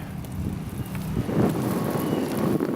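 Wind buffets a microphone with low, rumbling gusts that swell and fade unevenly, strongest toward the middle and end.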